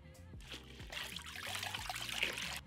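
Water runs from a kitchen sink tap onto an Anolon X hybrid pan being cleaned, a soft trickling splash that swells and continues at low level, with faint clunks of the pan.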